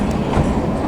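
The Kalka–Shimla toy train climbs into the hills with a dense, continuous rumble and a loud clatter of wheels on rails in one short burst.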